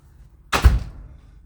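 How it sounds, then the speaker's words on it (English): A room door swings shut with a single muffled, low thunk, followed by a brief fading rumble in an otherwise quiet space. "I'm going to close this door back here"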